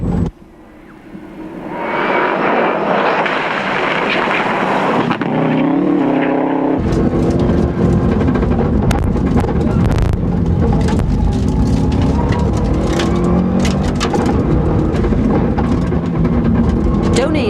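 A Subaru rally car on a forest stage at the 2002 Rally of the Lakes, its engine rising from a distant approach to a loud, sustained roar as it passes close, with continuous revving and gear changes throughout.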